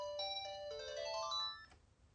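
A telephone ringtone plays a quick melodic series of electronic tones, fairly faint and alone, then stops.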